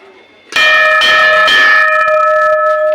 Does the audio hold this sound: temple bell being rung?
yes